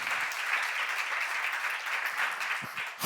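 A church congregation at a seminar gathering claps together, a continuous even wash of applause at moderate volume that carries steadily for a few seconds without any speech.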